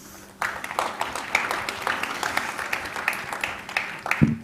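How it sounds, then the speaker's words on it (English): Applause from a conference audience at a wireless industry congress, moderate and steady for about four seconds after a quiet start, with scattered individual claps standing out and a brief thump near the end. "Wonderful applause."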